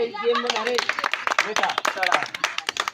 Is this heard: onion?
no